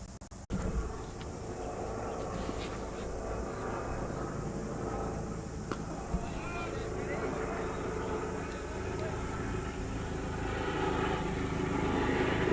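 A rescue helicopter passes over a cricket ground in Christchurch, a low, steady engine drone lingering in the background beneath continuous commentary.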